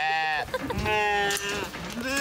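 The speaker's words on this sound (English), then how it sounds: "These are sheep." Several sheep bleat close by in Da Lat, Vietnam, their long wavering cries overlapping one another, loud and clear with no other sounds.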